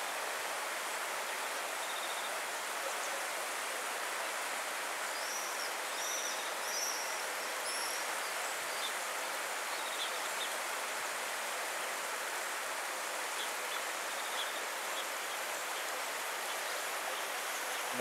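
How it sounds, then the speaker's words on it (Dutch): Stream water flowing near Anduze, a steady broadband rush held at an even level throughout, with faint bird chirps above it and no talk. "Ik hoop dat ik dat geluid van dat water zie dan ook."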